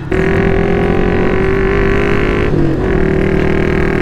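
A small motorcycle rides off-road toward the crater of an active volcano in the Philippines, its engine droning loud and steady at close range with a slight dip in pitch midway and no talk over it.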